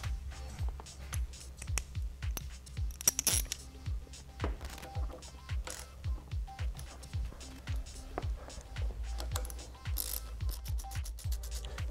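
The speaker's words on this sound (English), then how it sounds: "using a wrench from the top and the bottom, I will tighten the pivot bolt and nut assembly until they are snug" A ratchet wrench tightening the pivot bolt and nut on a 2013+ Kawasaki Ninja 300 brake or clutch lever, fast repeated clicking strokes in steady bursts, close and clear, with occasional metallic handling noises.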